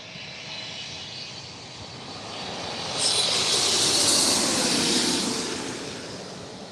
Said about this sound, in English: this is Air China Flight 601.